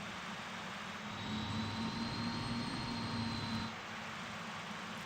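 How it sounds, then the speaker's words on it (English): A steady jet engine hum in the MD-83 cockpit of Microsoft Flight Simulator 2024, swelling slightly and holding a faint whine as the throttle moves, then settling back, with no talking. "I hate that throttle moving sound though"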